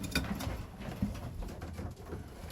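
Breeding pigeons in a loft coo in soft, throaty bursts, with light fluttering and shuffling around them, close by and moderately quiet, with no talking.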